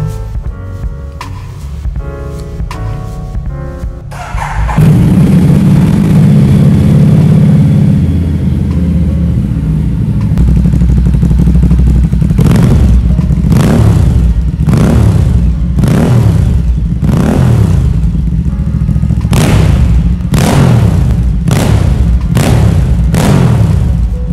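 A red Ducati Diavel 1200 cruiser motorcycle idles with a loud, deep rumble, then its engine is blipped in a series of sharp, repeated revs up close.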